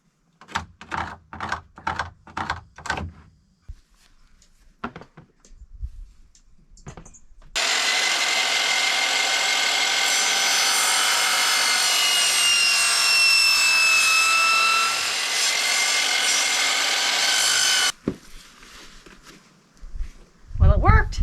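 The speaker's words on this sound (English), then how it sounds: "you can cut this with your chop saw" A chop saw cuts through a piece at an off-grid cabin, giving a loud, steady whining roar for about ten seconds, with brief handling knocks and clatter before and after the cut.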